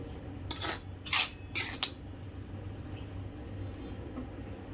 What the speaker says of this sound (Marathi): पुन्हा मिक्स करून घेऊ